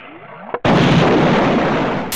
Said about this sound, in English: Time to put a bomb in the disk drive.